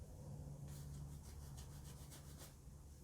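Close, faint scrubbing on a Chevy LS 5.3L engine being prepped for paint, a rough rubbing sound in a series of quick repeated strokes over a low background hum.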